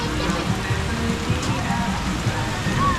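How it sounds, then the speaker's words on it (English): Steady rain falls on surfaces outdoors at a water park during a night party, a continuous close hiss and patter with faint voices in the background. "It is raining."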